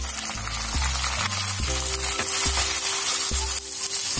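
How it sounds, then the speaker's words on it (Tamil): Tomatoes and curry leaves sauté in a pan after the onions, for a green sundakkai kara kuzhambu, giving a steady, close sizzle under recurring low tonal thumps. "தக்காளி நல்லா வதங்கணும்."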